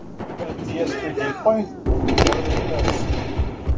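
Gunfire in the video game Battlefield 4 on the Siege of Shanghai map: several sharp shots crack out over a dense, busy game soundscape with rumbling and whining tones in the background.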